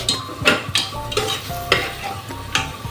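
Food sizzles and crackles steadily in a hot pan while a utensil stirs it, with repeated scraping strokes every half second or so.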